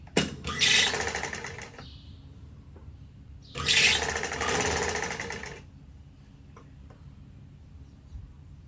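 A sewing machine stitches down the folded fabric of a puff sleeve in two close, steady bursts of rapid mechanical whirring, about two seconds each, with quiet pauses between and no talking.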